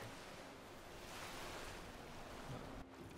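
Ocean waves and surf wash steadily in the Skyrim video game, a soft, continuous rushing roar with no voices.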